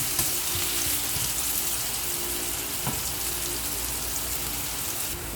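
Bay leaves fry with salt in a pan, giving a soft, steady sizzle with faint crackles throughout, low and close with no talking.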